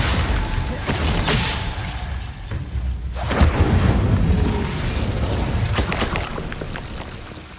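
Fiery spell blasts from the Incendio charm in Hogwarts Legacy, a dense roaring burst that swells and crackles over several seconds, alternating with sharper magical bursts, loud and close with no talking.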